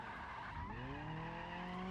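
Tires of a Miramar car with a weak engine squeal and skid in a sustained, sliding drift in the driving game BeamNG.drive, the engine droning loudly and continuously beneath the screech.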